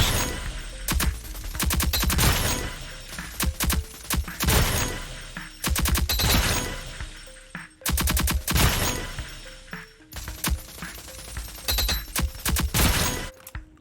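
Rapid automatic bursts from the Nightshade assault rifle in the Rogue Company shooter game, loud and close, coming in long sustained strings separated by brief pauses, with no talking.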